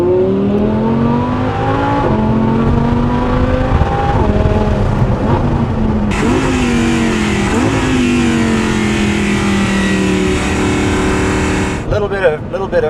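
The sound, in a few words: Audi R8 LMX V10 engine accelerating on road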